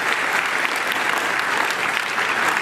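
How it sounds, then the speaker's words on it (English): A keynote audience at IDF 2012 breaks into dense, steady applause, loud and continuous throughout. "I think a round of applause."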